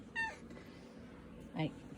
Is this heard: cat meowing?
yes